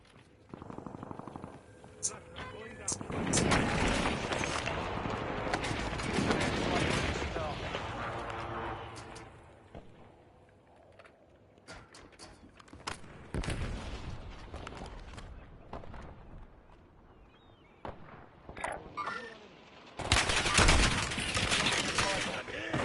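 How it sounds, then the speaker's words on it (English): Loud Call of Duty game audio of a hostile airstrike: dense bursts of gunfire and explosions rolling through, with heavy rattling volleys, a quieter middle stretch, and a fresh loud burst near the end. "Hostile airstrike incoming."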